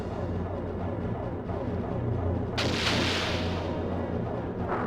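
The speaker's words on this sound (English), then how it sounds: "You use the 5-inch cannon." Ship cannon fire in the video game Skies of Arcadia thunders from a 5-inch cannon during a boss battle, a heavy rumbling barrage with a sharp blast midway, loud and without talk.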